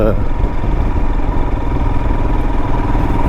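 A 2022 Royal Enfield Himalayan motorcycle engine running at low RPM while riding, a loud, steady thumping drone close up with a constant rumble and no break.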